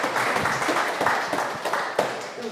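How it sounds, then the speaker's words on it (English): A conference audience claps in an irregular patter of hand claps with several sharper claps standing out, steady and moderately loud for a couple of seconds. "let's give another round of applause to our sponsors and to Rhonda"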